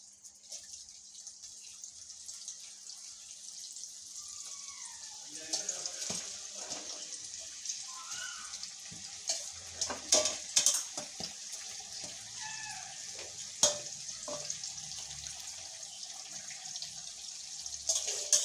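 Jackfruit slices dropped into hot oil for frying chips, a steady close sizzle and bubbling hiss that grows busier as more pieces go in, with light clatter and no talk.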